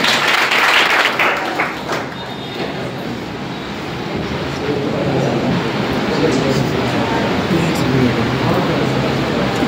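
A crowd at a college first-day welcome for first-year students claps steadily and loudly, the applause filling the hall for the whole stretch.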